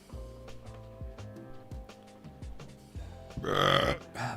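A long, drawn-out, croaky burp, close and loud, pulsing in uneven bursts before swelling into a rougher finish.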